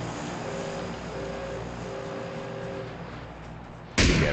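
An airplane flies overhead in the video game PUBG, a steady loud engine drone filling the scene before an abrupt burst of noise near the end.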